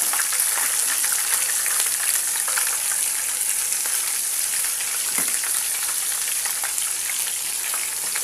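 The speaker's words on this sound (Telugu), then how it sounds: "ఇప్పుడు ఇదే ఆయిల్లో మనం అల్లం వెల్లుల్లి పేస్ట్ వేసుకున్నాం." Ginger garlic paste fries in hot oil while a prawn pickle is being made, giving a steady, loud, close sizzle with faint crackles and stirring throughout.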